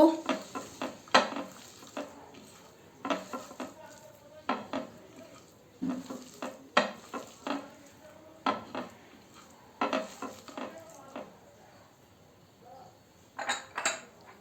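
Mashed cabbage being mixed with mustard oil in a metal bowl, a series of irregular scraping, clinking and squelching strokes close by, coming in bursts with short pauses between them.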